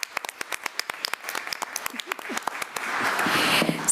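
A crowd at a school board meeting breaks into steady applause, scattered claps at first swelling into a fuller, sustained round.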